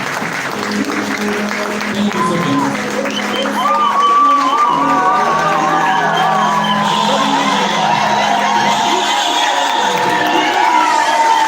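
Applause and cheering rise from a crowd at a Saturday recognition gathering in Zambia, loud and sustained, swelling after a few seconds while voices and a brief spoken thanks sit over the noise.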